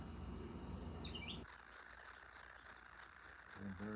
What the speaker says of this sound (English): Them birds chirping